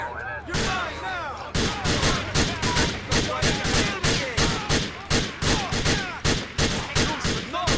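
Gunfire in the video game Grand Theft Auto 4, a loud, steady barrage of rapid shots firing in a regular rhythm throughout, with no pauses.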